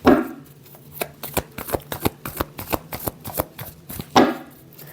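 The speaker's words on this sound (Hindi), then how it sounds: "Last shuffle." Tarot cards being shuffled by hand, a rapid run of crisp riffling slaps and flicks in an uneven rhythm, close and fairly loud, with a louder burst at the start and near the end.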